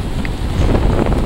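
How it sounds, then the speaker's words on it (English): Wind buffets a microphone on a Nova Scotia beach, a steady, loud rumbling roar filling the short stretch with no other distinct sounds. "it's a little bit windy today, right, Kevin?"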